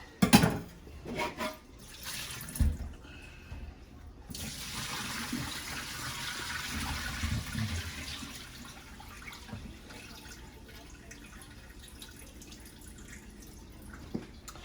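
Hands are rinsed under a running tap. Water splashes and pours for several seconds after a few louder knocks, then it thins to a faint trickle and drips, with no voices.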